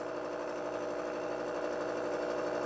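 Milling cutter taking a 30-thousandths-deep cut in vise-held metal at 500 RPM with no lubricant, giving a steady, dense machining drone with a faint low hum, continuous and fairly close for the whole stretch.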